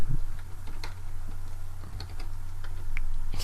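Fingers tap on a computer keyboard in quick, irregular keystrokes over a steady low hum, close and moderately loud, with no talking.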